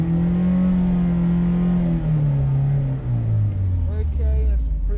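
A car exhaust drones loudly during a track day drive-by noise test, its steady engine tone falling in pitch as revs drop, close and continuous.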